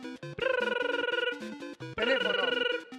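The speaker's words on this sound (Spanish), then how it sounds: "Sonido de teléfono." A telephone rings in two loud electronic bursts of trilling tone, each lasting over a second, separated by a brief pause, during a word-guessing game show.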